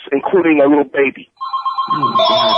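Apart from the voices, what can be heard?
telephone ringing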